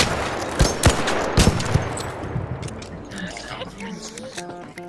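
Video game gunfire during a raider attack, a few sharp close shots and bursts in the first two seconds, with several people talking and shouting over the fight.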